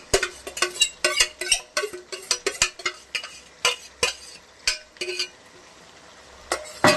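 Mutton being stirred in a kadai, a metal spoon scraping and clattering rapidly against the wok in close, busy strokes, then pausing briefly before a couple more knocks, with a faint sizzle underneath.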